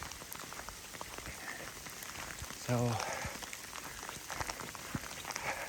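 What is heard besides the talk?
rain and hail falling on a river hiking trail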